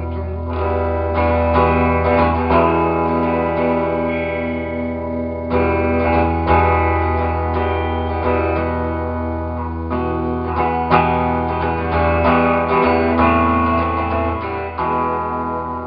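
A vintage Japanese Les Paul gold top copy electric guitar played through both pickups with the tone rolled down, sustained strummed chords with a mellow, smooth sound, loud and continuous with no voices.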